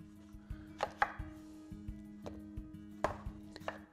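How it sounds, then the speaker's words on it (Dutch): Knife chopping celeriac into small pieces on a board, a steady run of sharp, close taps with irregular spacing and a few louder strikes, heard alone without talk. "Kleine stukken snijden."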